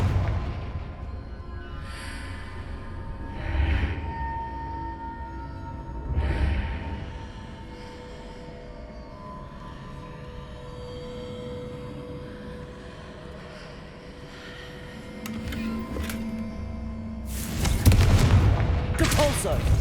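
Confringo fire spell blasts in Hogwarts Legacy, several deep booming impacts spaced through rumbling game ambience, with a louder crackling burst near the end and a voice calling out a spell.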